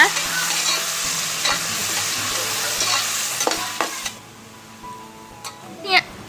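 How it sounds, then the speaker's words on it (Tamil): Onions frying in a pan for potato and peas pulao, a steady sizzle with repeated spoon scrapes, dropping to a quieter hiss toward the end as stirring clicks continue. "இப்போ வெங்காயத்தை போட்டு நல்லா வதக்குங்க. வெங்காயம் நல்லா கோல்டன் ப்ரௌன் ஆகுற வரைக்கும் வதக்குங்க."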